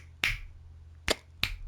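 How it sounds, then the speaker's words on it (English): Three crisp finger snaps, close and sharp, the first alone and the last two in quicker succession over a quiet background. "Sorry, I'm snapping my fingers."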